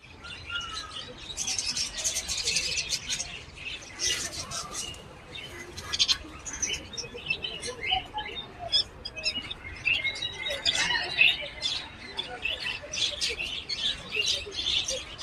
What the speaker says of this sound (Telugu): చూడండి ఇక్కడ ఒకటి కూర్చుంది పక్షి